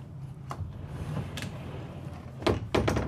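A solid sliding barn door in a 2024 Renegade Verona 40VRB RV rolls along its track, giving a low rumble with several soft knocks and thuds, close by and moderately loud.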